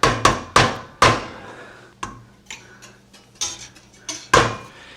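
A whisk clatters against a pot as potato mash is worked into soup liquid, with sharp metallic taps and clanks arriving in irregular bursts, loud and close, with no talking.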